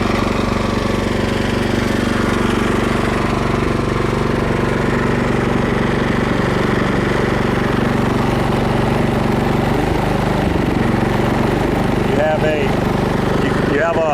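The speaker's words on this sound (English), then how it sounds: "Let it idle before you start the machine working, just to let the oil heat up." A Cub Cadet tractor engine idles nearby with a steady, rapid knocking chug that holds evenly throughout, and a person talks briefly over it toward the end.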